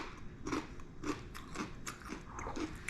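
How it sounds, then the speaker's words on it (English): Tortilla chips dipped in guacamole are bitten and chewed close up, with about five crisp crunches at an even pace and no talking. "I'm gonna try a little bit with some tortilla chips"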